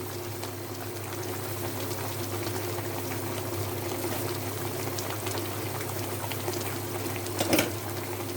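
A pot of vegetable curry simmers toward the boil, giving a steady low bubbling hiss that holds alone for the whole stretch, broken by one brief clink near the end.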